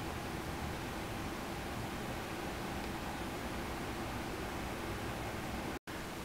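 Soft, even fan-like whooshing comes from a running Panasonic F-Y103SW dehumidifier at close range. The hum stays constant and unobtrusive, with a brief dropout near the end and no speech.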